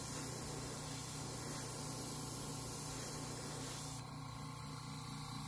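An airbrush sprays paint onto a Hinko Mini KO figure, giving a steady, quiet hiss of air that runs continuously and changes tone slightly near the end.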